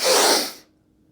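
A person takes one sharp, forceful sniff through the nose during a breathing exercise with bench hip stretches. The hissing inhale is loud and close for about half a second, then cuts off into near silence.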